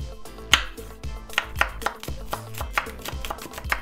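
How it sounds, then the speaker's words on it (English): Crisp knife strokes slice through a pepper on a cutting board, irregular taps close by with short pauses between them, while making a burger. "Next, we're going to slice up our pepper."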